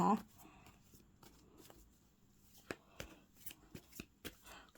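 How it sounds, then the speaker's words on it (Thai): Tarot cards being shuffled and cut by hand, quiet riffling followed by a run of crisp, close card snaps and slaps. "ขอเป็นตัวแทนสับไพ่ตัดไพ่ให้คนเกิดวันศุกร์นะคะ"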